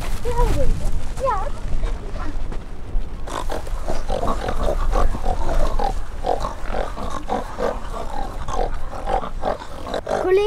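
A pig grunts and snorts up close, rough low calls repeating while people talk over it.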